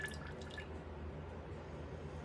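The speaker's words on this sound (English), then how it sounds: "Pour it in a big old bowl here." Melted butter poured into a big bowl, a brief soft liquid trickle and splatter at the start, then a faint low background hum, quiet and with no talk.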